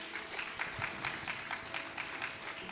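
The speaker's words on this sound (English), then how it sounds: "let me hear you clap your hands" A church congregation claps their hands together in steady, dense applause filling the room, continuous and fairly even throughout.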